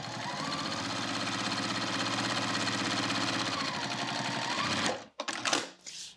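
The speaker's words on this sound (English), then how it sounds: "Now I only need to sew the bottom of my pocket." A sewing machine runs continuously, stitching the bottom of a zipper pocket on fabric, a steady close whirring hum that stops near the end with a few handling clicks.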